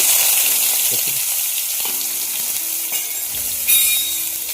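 Cumin seeds and chopped onion frying in hot oil in a pan, a steady close sizzle running throughout with a few light clinks and stirring scrapes.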